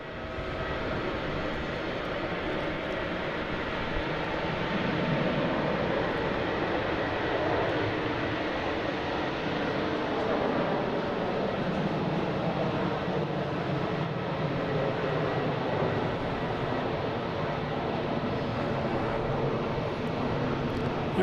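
A Delta jet at Boston Logan International Airport, flight 5629 bound for Columbia, produces a continuous engine rumble and roar that swells slightly midway and holds steady, with no voices present.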